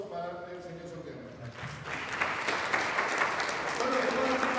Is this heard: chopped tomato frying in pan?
no